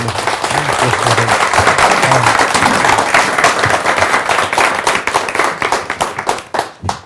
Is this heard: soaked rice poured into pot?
no